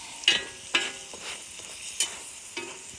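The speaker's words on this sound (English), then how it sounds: "we'll just kind of push this around, move them around a little so they all get a little bit of butter on them" Biscuits shifted around a buttered pan over a campfire make four distinct scraping clatters over a soft steady sizzle, spaced roughly evenly and heard up close.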